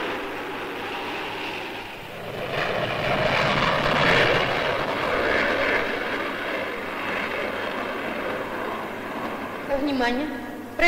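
Propeller airliner of a German airline, a 1965 Berlin flight, droning steadily as it arrives at a Moscow airport, a broad engine roar holding throughout with a brief rising whine near the end.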